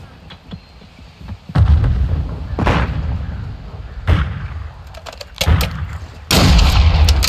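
A planted charge detonating on a target in a video game, a series of heavy booms and blasts, loud and close, spaced across a few seconds with quieter rumbling between them.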